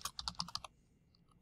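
Fast typing on a computer keyboard while setting up a class meeting link, a burst of about eight close, crisp key clicks over half a second, then near silence.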